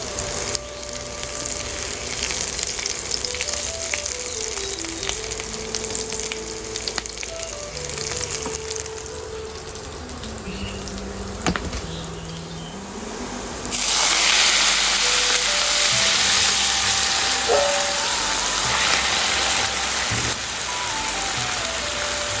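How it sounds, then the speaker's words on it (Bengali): Boiled leafy greens from the home vegetable garden hitting hot oil in a pan, giving a steady loud sizzle and crackle that swells sharply partway through, with faint tonal sounds underneath. "এখন শাকটাকে তেলানি দেই"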